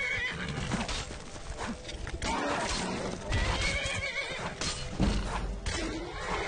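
A horse whinnies loudly in the video game Skyrim amid busy game sounds and hoofbeats clopping, with dense layered effects throughout.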